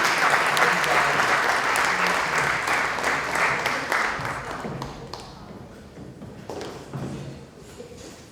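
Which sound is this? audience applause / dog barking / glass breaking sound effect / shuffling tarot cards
audience applause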